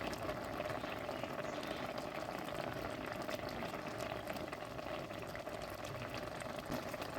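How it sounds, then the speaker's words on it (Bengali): Pointed gourd in poppy seed paste simmering in a pot, a steady close bubbling hiss that runs unbroken throughout with no voices. "পটল পোস্তটা কত সুন্দরভাবে ফুটছে"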